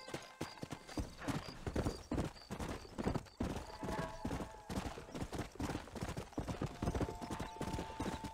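Horse hooves clip-clop in the Red Dead Redemption video game. The quiet, steady, rhythmic thudding of a riding horse continues throughout.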